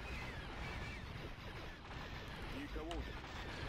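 Gunfire and artillery-like blasts in the Star Wars strategy game Thrawn's Revenge mod, with distant booms and shots layered over a dense, rumbling battle din, fairly faint and continuous, with a voice talking over it at times.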